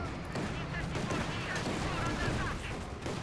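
Dense battle gunfire in Company of Heroes 2, with rapid overlapping small-arms bursts and distant explosions forming a continuous loud din throughout.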